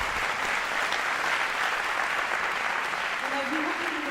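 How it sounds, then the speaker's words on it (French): Dense, sustained applause from a large audience at an event for a film on the Rhône, loud and even throughout, with a voice briefly starting to speak near the end. "je pense qu'on peut les applaudir très fort"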